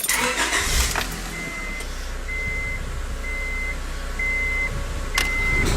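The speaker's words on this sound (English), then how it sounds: "We're going to start the car, turn some stuff on" A car engine cranks and starts, then idles steadily while a regular electronic beep chimes repeatedly, heard up close with no talking.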